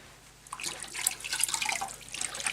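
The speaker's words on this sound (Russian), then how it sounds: "Сначала мочим мочалку, чтобы она была влажной." A scrubbing sponge dipped and soaked in a small bucket of water, before cleaning soot from stove glass; soft sloshing, dripping and trickling splashes close by, continuous and fairly quiet, with no talking.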